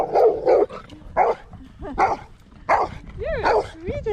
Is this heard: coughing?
no